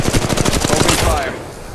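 A rapid burst of automatic gunfire in the Apex Legends Mobile video game, loud, close shots in a quick even rhythm, then a brief fading tail.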